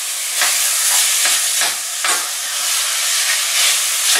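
Chili con carne ingredients sizzling in oil in a pan, a loud steady hiss broken by several scraping stirs of a spoon at a brisk, irregular rhythm, close up with no talking.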